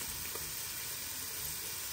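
Minced meat balls cook slowly in a pan over low heat, giving a soft, steady sizzle that runs evenly throughout with no talking.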